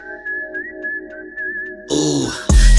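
A whistled Kill Bill melody in a hip-hop remix track, a clear sustained high whistle tune over a beat before the music swells louder.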